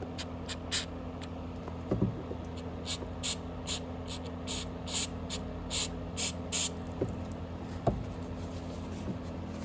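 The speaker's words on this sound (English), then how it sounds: "I am going to run some carb cleaner through there just to" Carb cleaner sprayed through the carburetor of an ECHO CS-602VL chainsaw, a series of short close hissing bursts in an uneven rhythm over a low steady hum.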